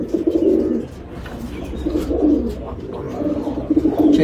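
Andha pigeons in a loft coo steadily, a close, low, throaty rolling murmur that swells and repeats across the whole stretch, with several birds overlapping.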